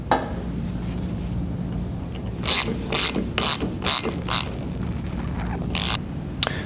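A ratchet tightens a plug coated with thread sealant on a hydraulic gear pump, giving a series of quick, crisp clicking bursts in an irregular rhythm over a low background hum.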